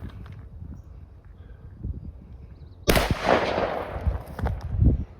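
A JC Higgins Model 20 compensated shotgun fires a single loud, sharp blast at a target outdoors, after a few seconds of quiet handling noise, then a booming report that decays with some low rumbles.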